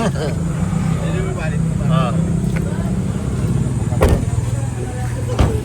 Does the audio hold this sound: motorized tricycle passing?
yes